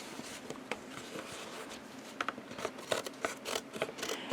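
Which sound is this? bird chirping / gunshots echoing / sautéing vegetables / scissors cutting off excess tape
scissors cutting off excess tape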